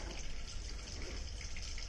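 Deionized water poured to rinse crude product collected in a filter during a chemistry practical, a steady close gushing, trickling wash with no talk.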